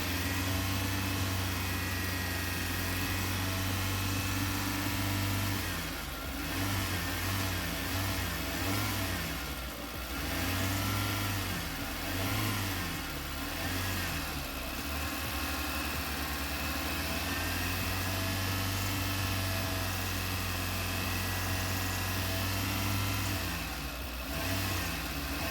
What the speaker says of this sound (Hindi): तो देखिए, फिर से फ़ैन ऑन हो गया है